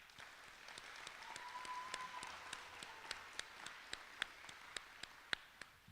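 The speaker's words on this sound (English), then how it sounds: "Let's give them another round of applause." An audience at an eighth-grade promotion ceremony applauding steadily, a dense wash of clapping with a few sharper, louder individual claps standing out toward the end.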